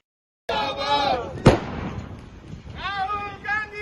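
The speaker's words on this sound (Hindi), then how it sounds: "आतिशबाजी कर जश्न मनाया।" Fireworks at a Congress party workers' celebration, one loud sharp bang cutting through steady crowd noise, with people talking before and after.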